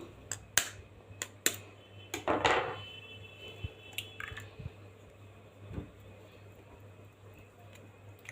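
Two eggs cracked one after another into a mixing bowl, giving sharp close taps and a wet squelch as the contents drop, followed by a few lighter clicks against a quiet kitchen hum.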